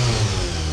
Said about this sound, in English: I'll just give you a little rev here so you can see.